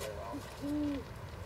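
A barn owl gives a short hooting call, a brief soft note followed by a longer, louder steady one, close and clear over a low background hiss.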